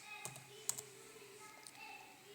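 Someone types a web address on a computer keyboard, a few faint, scattered key clicks and taps in a quiet room.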